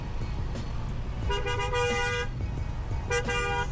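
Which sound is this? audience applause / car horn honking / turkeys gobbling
car horn honking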